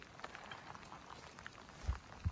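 Rain falls on a rainy afternoon in southern Washington, a steady soft patter with a few louder drops and thumps nearby, without any talking.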